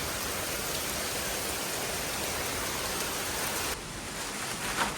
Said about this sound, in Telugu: చాలా గట్టిగా వర్షం పడుతుంది